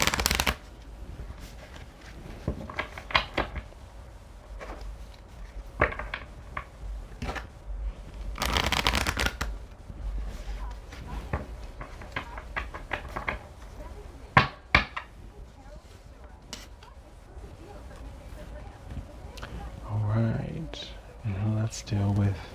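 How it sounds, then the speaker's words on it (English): A deck of tarot cards is shuffled in repeated bursts of crisp riffling and flapping, with a person talking intermittently between the shuffles. "Let's try that shuffle again."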